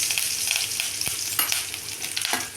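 Curry leaves dropped into hot oil with already-popped mustard seeds for an idli chutney tempering, a steady close sizzle with crackling pops through the whole stretch and a few sharper spits.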